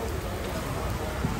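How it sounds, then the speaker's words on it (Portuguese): Heavy rain pours down in Cuiabá, a steady dense hiss with no break as Flamengo supporters wait outside unsheltered. "chove bastante aqui em Cuiabá."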